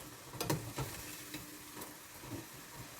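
Coated raw peanuts fry in hot oil with a steady, fairly quiet sizzle, while occasional sharp stirring clicks and scrapes sound up close.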